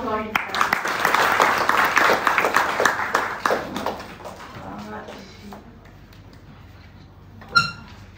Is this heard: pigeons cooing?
no